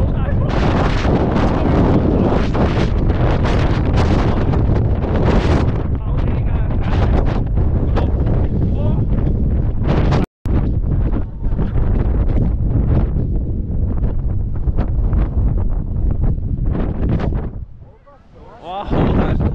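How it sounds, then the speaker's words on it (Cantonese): Strong wind on the summit of Mount Wellington, Tasmania, roaring and buffeting the microphone loudly and almost without pause, cutting out once briefly and easing near the end. "好大風啊！"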